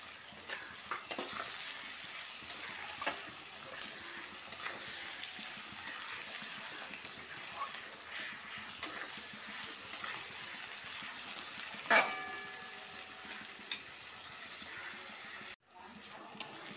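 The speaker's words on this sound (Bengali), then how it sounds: "পেঁয়াজটা একটু ভাজা ভাজা হয়ে গেছে" Onion frying in a pan with salt, cooked for an Indian crab curry: a steady sizzle runs throughout, broken by scraping stirs and a sharp clink near the end, with no voices.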